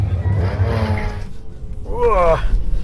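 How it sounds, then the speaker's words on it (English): An Audi and a Tesla launch side by side at a drag strip, with a loud rising engine and tire roar held through the burst and a brighter surge near the end, no clear talk over it. "We've got an Audi in the left lane and a Tesla in the right."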